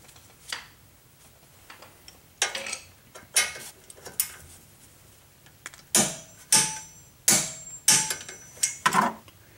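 A torque wrench clicks and ratchets while tightening brake caliper bolts on a 2005 Town & Country rear brake, a series of sharp metallic clicks in irregular bursts, close and quiet with no talking.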